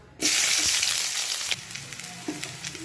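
Onions dropped into hot oil for cowpea kurma burst into a loud sudden sizzle, then keep frying with a steady hiss and occasional stirring clicks, close up.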